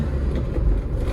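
A Hyundai Porter 2 refrigerated truck's engine accelerates in third gear, a close, loud, low rumbling drone that holds steady without any talk.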